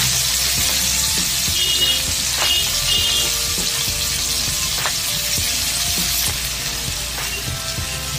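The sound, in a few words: chopped onion frying in a pan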